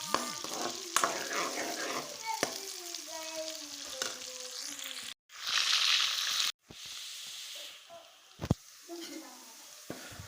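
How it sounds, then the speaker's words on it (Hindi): Onions browning in a pan for an aloo and masoor daal, with steady sizzling and frying hiss, stirring scrapes and a few knocks, heard up close with no talk. "प्याज की भुनाई करेंगे सबसे पहले।"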